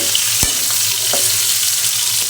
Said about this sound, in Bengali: আমার ফুলকপিগুলো কি সুন্দর লাল লাল ভাজা হয়ে গেছে